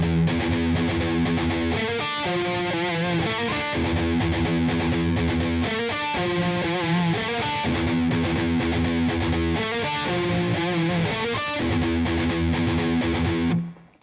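Heavily distorted electric guitar chugs through the main riff of a song, tight repeated palm-muted phrases with accented chord hits every couple of seconds, loud and steady before stopping abruptly at the end.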